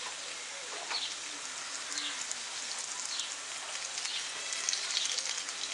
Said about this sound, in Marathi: अशाच पद्धतीने मी सर्व मच्छी फ्राय करते